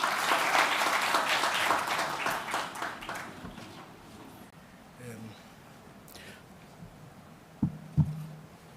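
An audience at an African forum on urban forests applauds in a dense, close burst of clapping that gradually thins and fades, then a couple of dull thumps follow near the end.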